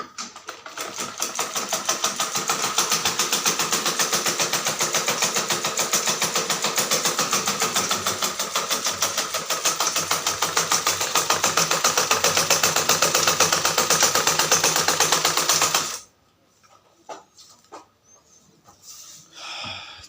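Household sewing machine running steadily at home for about sixteen seconds, a loud continuous rapid mechanical whir and clatter, then stopping abruptly, leaving quiet room sound.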